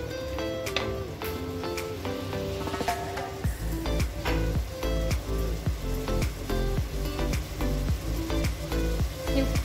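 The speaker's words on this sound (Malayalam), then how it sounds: "ഇഞ്ചി, വെളുത്തുള്ളി പേസ്റ്റ് ആഡ് ചെയ്യാം. ആ റോസ് മെല്ല് പോണവരെ നന്നായിട്ട് വഴറ്റുക" Ginger garlic paste sautés with onions in a pan for mutton rava biriyani, a crackling sizzle running under a string of regular clicking, tapping stirs.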